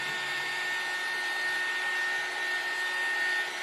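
A small handheld craft dryer blows on wet paint, giving a steady, even whir of airflow with a faint high whine, held close and running without a break.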